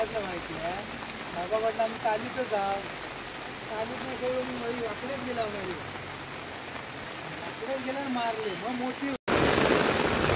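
A heavy May downpour in a Konkan village makes a constant, loud hiss of rain that does not let up, with someone talking over it most of the time.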